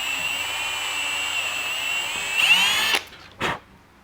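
A power drill fitted with a 3.5mm bit whines steadily at high pitch while drilling into a workpiece for a DIY cable reel caddy, then stops, followed by a short second burst.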